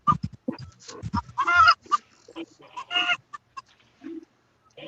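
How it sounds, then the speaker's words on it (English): Backyard chickens clucking in short, irregular bursts at moderate distance, mixed with someone talking over them throughout. "Got some chickens there."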